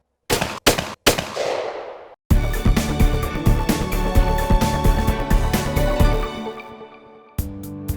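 Rapid bursts of gunfire at a shooting range, a few sharp single shots followed by a long sustained volley of loud, close automatic fire that cuts off abruptly, then one last short burst.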